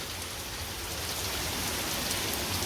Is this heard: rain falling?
yes